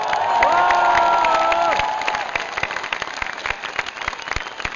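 A concert crowd at a show in Helsinki applauds and cheers, with whoops and whistles rising loudly at first before settling into quieter, scattered clapping.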